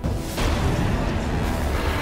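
Alien bomb detonating in the sci-fi film Beyond Skyline: a loud, dense rumbling blast that swells suddenly after a short lead-in and sustains as a roaring wash to the end.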